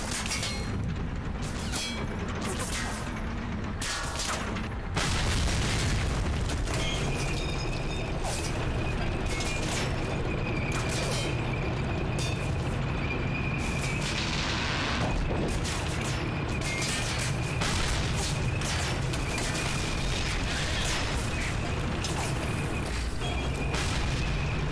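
Battle sounds in the Medal of Honor Allied Assault game, Brittany mission: repeated gunshots and heavy booming blasts crack over a continuous rumbling backdrop of combat, dense and sustained throughout.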